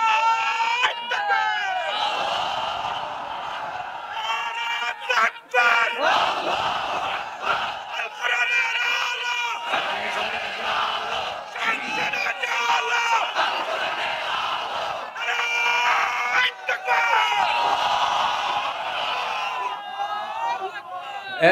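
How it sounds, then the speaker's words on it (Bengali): A large crowd of young men roars a takbir chant at a religious political rally, rising and falling in repeated loud surging waves of massed voices and shouts for the whole stretch. "দাও না তাকবীর যুবকরা"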